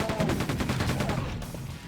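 A machine gun fires in Quake 2 as a fast, even burst of about a dozen loud, close shots in quick succession, tailing off at the end.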